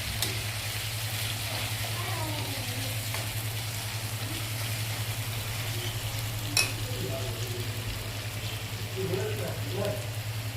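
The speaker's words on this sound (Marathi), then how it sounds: "आता हे वाटण वाटलेलं आहे ते आता तळून घेऊया याच्यात 2 ते 3 मिनिटं" Ground masala paste fries in a pan with a steady, even sizzle under a constant low hum, broken by occasional stirring scrapes, and no talking is heard.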